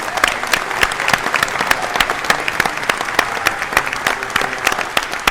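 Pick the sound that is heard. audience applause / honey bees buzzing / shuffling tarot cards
audience applause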